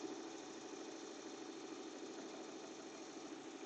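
A sewing machine stitches beanies with a fast, steady mechanical whir and hum that runs without a break, fairly faint in a quiet room.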